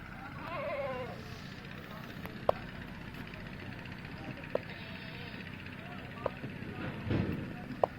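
A goat bleats briefly near the start amid outdoor background noise, while people talk nearby and a few sharp clicks punctuate the scene.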